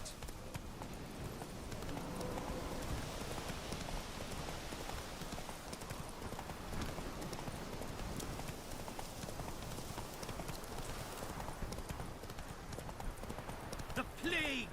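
Horse hooves clip-clop steadily through the open world of The Witcher 3, a continuous trotting rhythm layered over game ambience and background music for the whole stretch.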